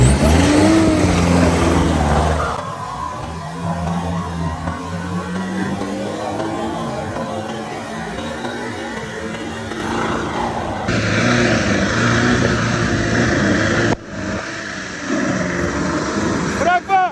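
An off-road car at an off-road racing event revs its engine loudly and steadily, a continuous rough motor roar with shifting pitch running throughout, with voices talking over it.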